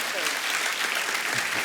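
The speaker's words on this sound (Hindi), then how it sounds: "उसके लिए जोरदार ताली पाजी।" Loud, dense studio audience applause from a TV comedy talk show, a steady wash of clapping that fills the whole moment without a break.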